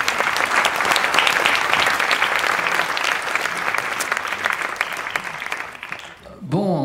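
A debate audience breaks into dense, loud applause that holds steady for several seconds, then fades as a voice begins speaking at the very end.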